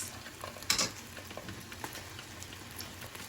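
Cooked beans hit hot bacon lard and onion in a pan, a crackling sizzle with a sudden louder burst early on, then steady popping and spattering, close and without talk.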